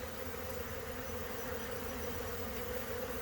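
Honey bees robbing a hive make a dense, continuous buzz at close range, a steady droning swarm with no gaps.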